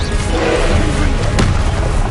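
A Confringo fire spell explodes during combat in Hogwarts Legacy: one sharp blast rises out of a dense, continuous roar of magical effects and rumble.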